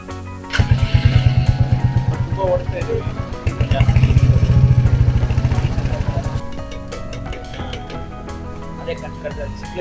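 A Royal Enfield Hunter 350 motorcycle engine runs nearby, its single-cylinder thump pulsing rapidly and evenly before easing off, then quieter ticking and clicking continue alone afterward.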